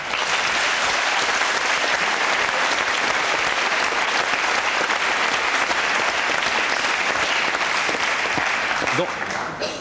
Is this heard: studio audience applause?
yes